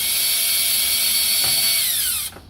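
A power drill whines steadily, backing screws out from under an oven control panel during thermostat replacement, loud and close, its pitch sliding down before the motor cuts off near the end.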